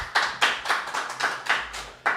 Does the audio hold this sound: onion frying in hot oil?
no